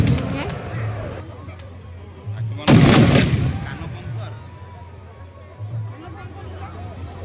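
A firecracker bursts loudly and close during the burning of a Ravan effigy in Baripada, one sharp blast followed by a fading rumble, with crowd chatter and voices around it.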